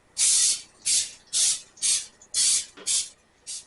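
Seven short bursts of aerosol cooking spray hiss onto a muffin tin in steady succession, each lasting about a third of a second, close and fairly loud with brief pauses between.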